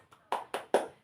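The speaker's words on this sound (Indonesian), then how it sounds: "berikan tepuk tangan untuk kelompok 2" Children in a primary school classroom clap for a presenting group: one faint tap, then three sharp, evenly spaced hand claps, close and alone.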